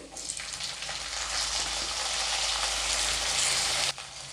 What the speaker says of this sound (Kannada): ಬೆಳ್ಳುಳ್ಳಿನೂ ಸ್ವಲ್ಪ ಫ್ರೈ ಮಾಡಬೇಕು, ಕಲರ್ ಬರಬೇಕು ಅದು.